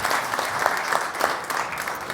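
Studio audience applauding a guest on a French television show, a dense, steady wash of clapping hands throughout, fairly loud and close, with no talking over it.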